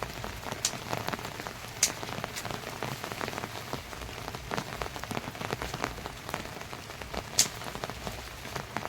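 Steady rain falling outdoors on a pig farm in the Philippines, a dense patter of drops with a few sharper nearby hits, continuous and moderately loud.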